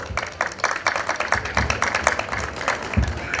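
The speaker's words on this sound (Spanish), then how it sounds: "Fuerte, fuerte las palmas," An audience at a family 50th birthday party claps in a dense, steady patter of many hands, moderately close and continuous without speech.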